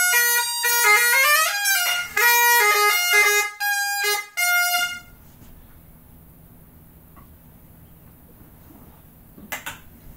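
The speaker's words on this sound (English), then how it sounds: "I got to play the chanter a little bit." Hardie bagpipe chanter played in a run of bright, reedy melody notes with quick ornamented changes for about five seconds, then cutting off into quiet room hiss.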